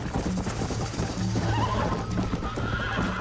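Horse galloping in Red Dead Redemption, steady rapid clip-clop hoofbeats with occasional neighs and whinnies, loud and continuous throughout.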